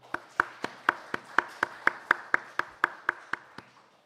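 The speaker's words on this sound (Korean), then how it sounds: "우리 감사의 박수 한번 하겠습니다." A church congregation at a Sunday morning service claps in thanks, with sharp, evenly spaced claps in a steady beat that fade slightly toward the end, heard without speech.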